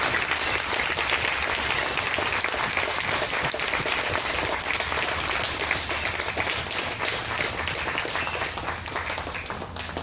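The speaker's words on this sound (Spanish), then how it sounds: "Démosle un fuerte aplauso al Señor." A church congregation gives loud applause to the Lord during a worship service, a sustained dense roar of many hands clapping close and continuously without letup.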